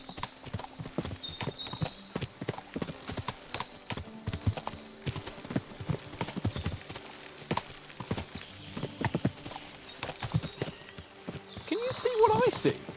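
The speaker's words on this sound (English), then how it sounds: "What a lot of horses!" Many horses' hooves clip-clop in a busy, overlapping rhythm in the medieval video game Kingdom Come: Deliverance II, with an occasional whinny and some talk over the top.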